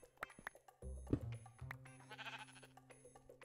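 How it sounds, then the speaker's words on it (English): A sheep in a video game bleats a few times, a wavering nasal call over quiet background noises and faint clicks. "Oh, wait, there is a sheep in here?"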